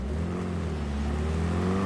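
A car in the Cyberpunk 2077 video game holds a steady engine drone with a low hum and a slowly rising pitch, like a car cruising or gently accelerating. No voices are heard over it.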